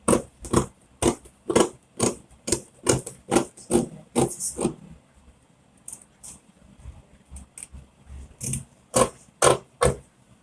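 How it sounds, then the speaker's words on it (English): Scissors snipping through fabric to cut the neckline of a pleated bubu kaftan, a close run of sharp rhythmic snips, a brief pause, then a few more cuts, heard alone with no talk. "I will now cut out the neckline"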